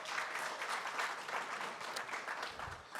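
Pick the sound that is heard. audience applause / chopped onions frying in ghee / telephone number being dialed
audience applause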